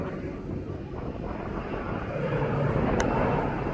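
An Aer Lingus airliner passes at East Midlands Airport early in the morning, a broad, distant jet roar that slowly swells, mixed with wind buffeting on the microphone and no talking.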